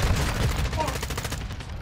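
Rapid automatic gunfire in Call of Duty Modern Warfare II, a continuous close rattle of shots running through the whole moment, loud and steady with slight fluctuations.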